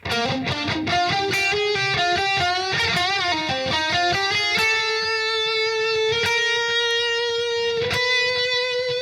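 Distorted electric guitar plays a long, slow phrase from a solo, quick picked notes with bends settling into a sustained held note, loud and close with no talking.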